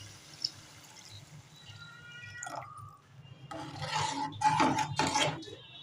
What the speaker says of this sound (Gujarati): હવે નાખવાનું છે પાણી